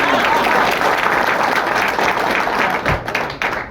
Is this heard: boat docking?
no